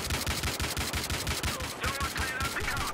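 Rapid automatic gunfire in Battlefield Hardline multiplayer on PS4: a dense, continuous stream of loud shots with a steady rhythm, filling the whole stretch with no talk.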